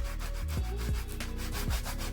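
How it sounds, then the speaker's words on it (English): Rhythmic back-and-forth scratching of a small sanding block rubbing over paper, steady strokes up close with no talking. "I'm just using a little sanding block that I got from Dollar Tree"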